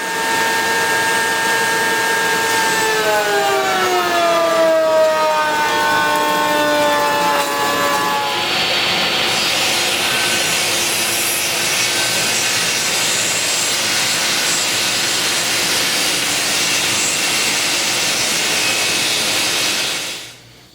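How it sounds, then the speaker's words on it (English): Router table fitted with an ogee bit cutting wooden trim, a loud steady whine that holds for about eight seconds with a falling pitch, then settles into a continuous cutting roar until it stops near the end. "I've got the router table set up and I have that OG bit in there already, and I'm just going to make some trim out of that."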